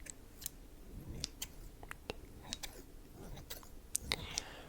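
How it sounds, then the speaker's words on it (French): Quiet, close scissors snipping: a string of short, crisp clicks at an uneven pace over a soft background hiss. "J'ai pris des ciseaux."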